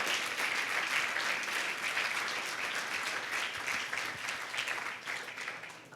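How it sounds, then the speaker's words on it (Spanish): A church congregation applauds loudly for Jesus Christ during a sermon, producing a dense, sustained roar of clapping that holds steady for several seconds and fades slightly toward the end, with no talk over it. "Dale fuerte ese aplauso a Jesucristo"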